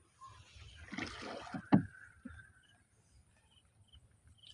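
A rowboat is brought to a halt at the bank of a remote wetland, with soft water sloshing, a sharp wooden knock of the hull against the shore, and then near silence.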